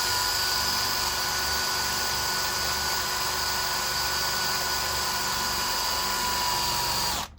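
A power drill runs steadily and loudly in a home workshop, a continuous whining drone as it bores into material, holding even for several seconds before cutting off abruptly at the end.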